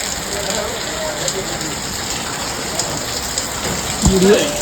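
Steady rain falling outdoors, a dense even patter on surfaces throughout, with brief faint voices and a short louder sound near the end.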